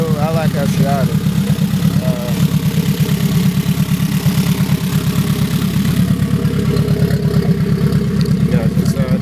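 A turbocharged 2011 Honda Civic Si idles steadily at close range, a continuous low throbbing rumble with a fast even pulse that holds throughout, with no check engine light and the engine still running on a cold-ish start.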